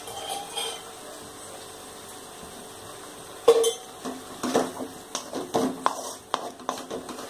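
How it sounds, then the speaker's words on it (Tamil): Ginger sautéing in oil in a pan, with a faint sizzle under repeated clanks and scrapes of a utensil against the pan, growing busier in the second half. "நல்லா இதை வதக்கி விடுங்க."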